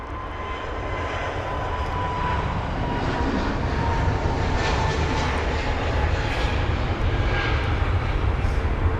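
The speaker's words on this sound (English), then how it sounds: "Here's TAP Air Portugal with their departure." A three-year-old TAP Air Portugal Airbus A321neo roars down the runway at London Heathrow on departure to Lisbon, a loud, steady broadband jet engine rumble holding throughout from a moderate distance, with no talking.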